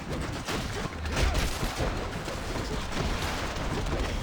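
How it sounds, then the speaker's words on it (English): Bombs going off in the action video game Hades, a dense, continuous barrage of overlapping blasts with heavy low rumble and no clear gaps between them, loud and close throughout. "I'm gonna have to stop it with bombs now."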